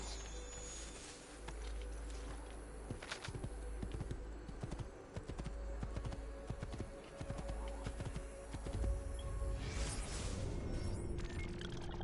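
Steady horse hooves clip-clop at a trotting pace in Assassin's Creed II, over a faint background buzz of insects, fairly quiet and continuous.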